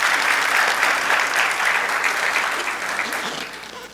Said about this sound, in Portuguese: Dá uma salva de palmas para esse menino que ajudou.